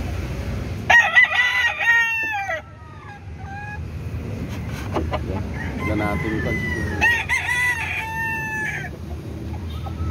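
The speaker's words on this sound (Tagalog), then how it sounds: "Mula dito, manok natin yan." A rooster crows loudly several times while chickens cluck nearby, with a person speaking briefly between the calls.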